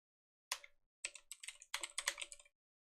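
Typing on a computer keyboard during a game development session, short bursts of quick clicking keystrokes with pauses between, close and fairly quiet.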